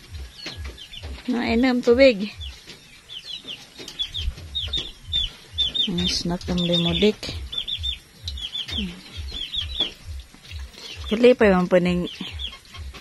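Chickens on a rural Filipino homestead cluck and call in short bursts amid chirping birds, while a person talks throughout in the foreground.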